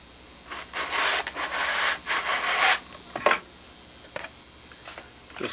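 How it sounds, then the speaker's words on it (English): A sanding block rubs over a replica Spitfire model part in a few close, quiet bursts of scraping strokes, followed by lighter scattered scrapes and taps. "Just dress everything off here with a sanding block."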